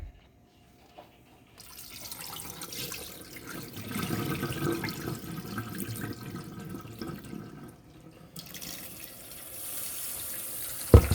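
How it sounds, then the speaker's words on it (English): Bean sprout seeds rinsed under a running kitchen tap, a steady splashing stream into the container for several seconds, close by, cutting off and then starting again. "I'm gonna go rinse it slightly a couple of times to rinse out the seed"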